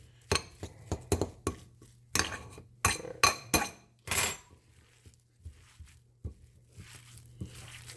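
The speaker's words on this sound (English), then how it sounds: "I'm probably going to have to get in there with my hands, to be honest with you, just to mush it all together." A spoon or utensil clinks and scrapes against a bowl while stirring an egg and cheese mixture, in a quick run of sharp knocks over the first few seconds before easing into softer, sparser taps.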